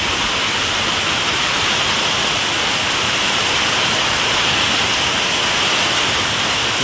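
Loud, constant hissing wash of heavy rain pouring down during a downpour, steady and unbroken from start to finish with no talking.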